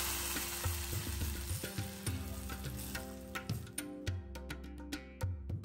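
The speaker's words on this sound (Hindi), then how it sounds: "सांभर के ऊपर डालिए थोड़ा सा कड़ी पत्ता और उसके ऊपर ये तड़का।" Hot tempering with curry leaves and browned chopped onion poured over homemade drumstick sambar, a loud continuous sizzle with crackling pops and spits, close up and without talk.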